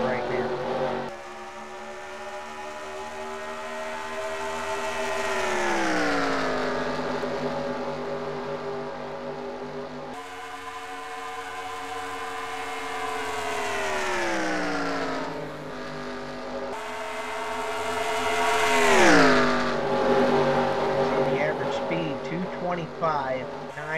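Race cars in a sim racing game lap Daytona speedway, engines whining in long rising and falling sweeps as they pass, three waves of loud engine tone over about twenty seconds, with a commentator's voice running underneath.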